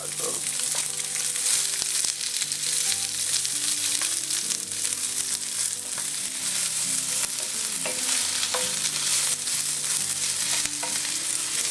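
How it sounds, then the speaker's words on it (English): Onions sizzling and frying in a hot pan on the way to caramelizing, a continuous dense crackle with occasional stirring clatter and faint background tones throughout. "I'm going to start with our onions first. We're going to caramelize those."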